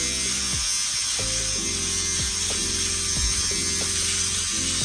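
An electric trimmer cuts mustache hair up close, giving a steady, loud buzz whose pitch rises and falls as it presses against the face. It runs the whole time with no talking.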